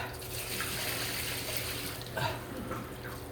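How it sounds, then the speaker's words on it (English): Tap water runs continuously over cooked noodles being rinsed in cold water, a steady close splashing hiss with a few brief louder splashes, no talking. "So I rinse my noodles in cold water"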